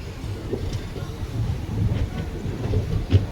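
Chennai SF Express 12604 with ICF coaches runs on the Guntur route, heard from on board as a continuous low rumble and rattle of the carriages with some wind noise.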